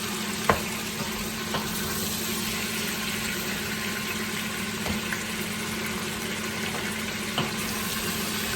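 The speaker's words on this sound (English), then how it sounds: "Keep it stirring so it doesn't stick." Brisket sizzling steadily in a hot pan as it is stirred and sealed, with occasional sharp scrapes and knocks of the utensil over a continuous close frying hiss, no talking.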